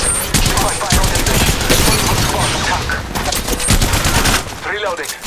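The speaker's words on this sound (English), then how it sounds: "I'm getting shot at." Dense automatic gunfire in a squad-based video game shooter, loud and close, with rapid continuous bursts and impacts nearly filling the clip, and a voice briefly heard under the shooting.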